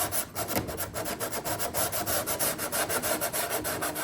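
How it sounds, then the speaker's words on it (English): A small piece of sandpaper rubs along the canopy edge under the cowling of a 49-inch Extra NG model airplane, making quick, even back-and-forth rasping strokes, close and continuous. "Just take a small piece of sandpaper and I'm just going to go underneath the cowling and just smooth this out a little"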